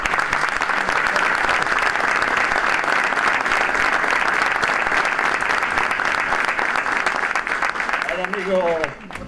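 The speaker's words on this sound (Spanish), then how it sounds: "El aplauso para los dos." A crowd at a ceremony renaming the Cecilio Lastra sports hall claps loudly and steadily for around nine seconds, a thick continuous wash of hands that thins out near the end, where a voice begins to speak.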